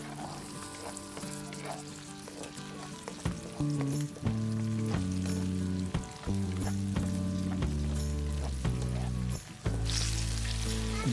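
Chillies fry in oil over low heat while being stirred, giving a steady close sizzle with scraping strokes and a few sharp pops, continuous and fairly loud alongside a sustained tonal hum, with no talking.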